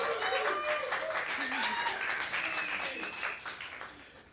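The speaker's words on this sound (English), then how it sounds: "Please clap for Yumi Kim." Audience applause welcoming pianist and composer Yumi Kim at a student presentation, a fairly quiet spread of clapping mixed with murmuring voices that gradually fades.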